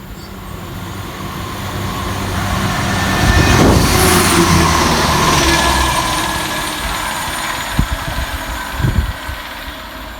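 Diesel multiple unit 168329 at Olton railway station, working from Birmingham Moor Street to Banbury, rumbles past with a steady engine drone that swells to a peak midway and fades, with a couple of sharp thumps near the end.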